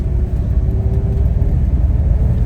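A 2001 Porsche 911 Carrera engine drones loudly with a deep, steady rumble and whir heard from inside the car, no voices.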